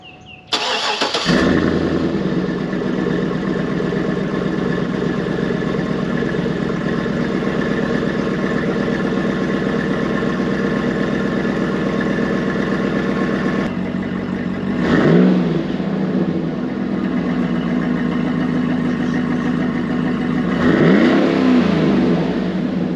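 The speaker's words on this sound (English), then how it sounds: "let's go ahead and take a sound check of the stock exhaust" A lifted, leveled GMC Yukon Denali with stock exhaust cranks and fires up, then settles into a loud steady idle before two sharp revs rise and fall near the end, with no talking.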